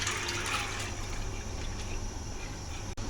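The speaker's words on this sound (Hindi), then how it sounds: "मजीद इसके अंदर 1 कप पानी वापस से ऐड कर देंगे" Water pours continuously into lentils (dal) in a pot over a lit flame, with whole coriander added. The fill is a steady, close rushing splash with no talk.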